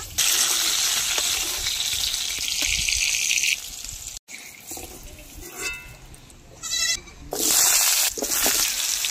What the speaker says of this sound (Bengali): এবার তুলে নেব, নিয়ে আলুগুলো ভেজে নেব।